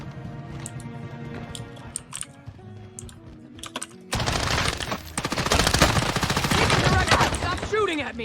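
Rapid automatic gunfire bursts from the Call of Duty Warzone video game, starting after quieter keyboard-like clicks and building into a dense, loud stretch of shooting.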